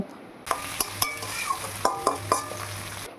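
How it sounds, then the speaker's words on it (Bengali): Chopped garlic and onion fry in hot oil for a chicken biryani, giving a steady close sizzle with repeated sharp scrapes and knocks as the pan is stirred, and no talking. "রসুন কুচি দিয়ে হালকা লাল লাল করে ভেজে নিয়ে পেঁয়াজ কুচি দিয়ে ভালো করে ব্রাউন করে ভেজে নেব"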